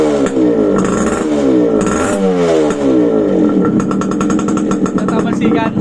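A cold motorcycle engine under restoration runs with no muffler, a loud raw throbbing idle with rising revs and rattling clatter, close up, while a person talks over it.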